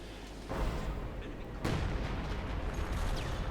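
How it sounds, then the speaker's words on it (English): Artillery barrage in Company of Heroes 2 striking Schwerpanzer quarters, dense rumbling blasts and rolling booms layered continuously, with a sharp heavy impact midway. "we got artillery going down here against the Schwerpanzer quarters"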